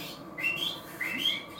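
A person whistles two rising, sliding notes a moment apart, thin and clear against a quiet room, demonstrating a technique at a duck-calling night.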